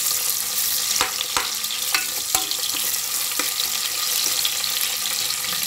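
Steady sizzling of onions frying in hot oil, with occasional scraping and clinking as they are stirred in the pan.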